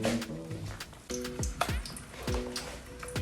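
Oil sizzles and crackles in a pan with sharp popping bursts and spatters, alongside some faint tonal clinks and scraping.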